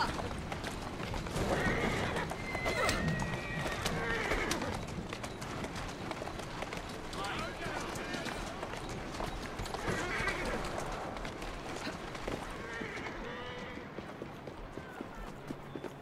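A horse-drawn carriage in Assassin's Creed Syndicate, with steady clip-clopping hooves and rolling wheels, a horse whinnying loudly a few times, and the whole sound easing off toward the end.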